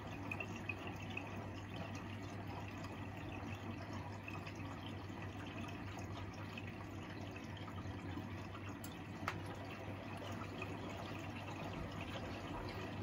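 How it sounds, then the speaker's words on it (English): A washing machine takes in water for its first rinse, a faint, steady hiss of water flowing in that continues evenly, with only a soft low hum beneath it. "So now it is getting the water for the first rinse"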